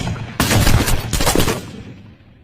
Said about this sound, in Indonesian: ia terpaksa ditembak mati oleh sniper